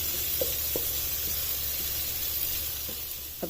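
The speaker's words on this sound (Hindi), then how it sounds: "अब इन तीनों चीजों को सिर्फ इसमें 2 मिनट तक ही फ्राई होने देना है ऑयल में।" Cumin and other spices sizzle in hot oil with a steady, dense hiss, punctuated by a few faint pops and crackles, close by with no voices.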